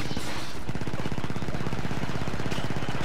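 A beam gun fires in the Star Wars Battlefront 2 video game, a steady rapid stream of loud buzzing pulses that runs unbroken across the whole span, close and dense with no voices.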